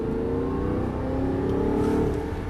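An Audi R8 V8 sports car accelerating on track. A steady, loud engine drone rises in pitch as it builds speed, heard close up from inside the car with no one speaking.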